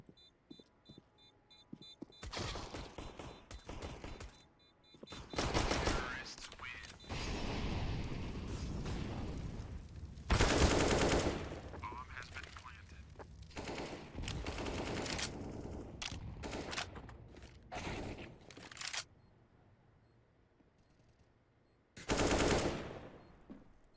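Bursts of rapid automatic gunfire with explosive booms, loud and close, firing in clustered volleys with short pauses between.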